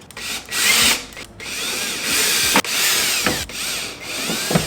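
A power drill drives screws to mount the bracket for a Lectron 48-amp EV charging station for a Tesla Model 3, with several loud, close whirring runs separated by short pauses and ratcheting clicks.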